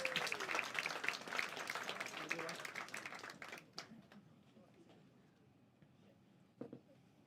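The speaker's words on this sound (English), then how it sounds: "Start the round of applause." A comedy club audience gives a round of applause, dense clapping for several seconds that thins out and fades to scattered claps, with talk in the room.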